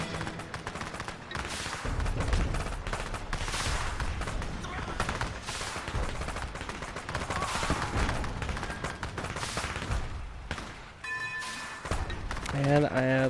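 Units firing guns in the real-time strategy game Rise of Legends, a steady crackle of repeated shots and bursts running throughout under busy battle noise, with a few brighter tonal game effects near the end.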